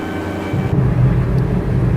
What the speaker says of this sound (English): All right, we're going to drop the landing gear. Here we go. Landing gear coming down.